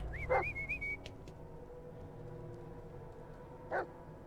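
A dog in the video game Blair Witch gives two short, sharp barks with a few seconds of quiet between them, and a faint whistle sounds near the start.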